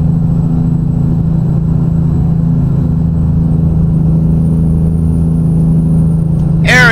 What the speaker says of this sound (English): I don't want to be drowned out by the truck sounds either